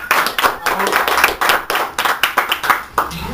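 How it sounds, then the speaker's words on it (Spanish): Clapping on a radio show set, a few pairs of hands striking in loose, uneven bursts close to the mic, with talking and chatter mixed in throughout. "Un aplauso para el carajo"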